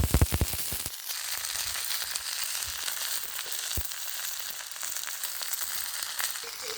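Fish frying wrapped in banana leaf in a village cooking setting: a steady, dense sizzle and crackle of hot oil, with a few sharp pops near the start, continuing throughout at moderate loudness.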